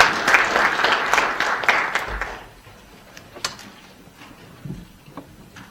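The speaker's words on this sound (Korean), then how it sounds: "우선 첫 번째 발제자이신 신일기 인천 가톨릭대 교수님을 큰 박수로 맞아 주시기 바랍니다" Audience at an outdoor-advertising academic seminar applauding to welcome a speaker, a loud burst of many hands for about two and a half seconds that fades out, followed by quiet room noise and a few faint knocks.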